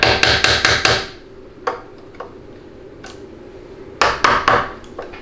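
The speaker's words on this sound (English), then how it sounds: "you're going to need to persuade it with like a hammer and a screwdriver" A hammer and screwdriver tap on a Ford C6 transmission part: a quick burst of five sharp metallic knocks, then a few scattered single taps, then another cluster of close, loud strikes.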